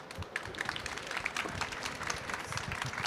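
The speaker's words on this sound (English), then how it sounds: "please give a round of applause to all the speakers" Audience applauding the speakers at the close of a university startup innovation panel session: faint, dense, steady clapping from a room full of people, continuing evenly throughout.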